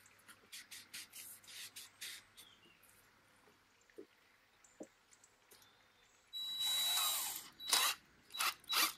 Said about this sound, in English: this tool is used for making plugs or like short dowels.